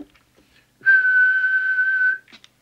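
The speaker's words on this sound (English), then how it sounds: "Switch off the oscillator and just check with the whistle test." A steady whistled tone, held for just over a second, sent into a CB radio microphone while the transmitter is being adjusted, loud and close, with faint clicks and rustles before and after it.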